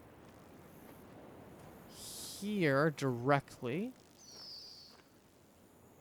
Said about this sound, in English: They almost sound like cicadas, but then they have like a hawk sound every so often.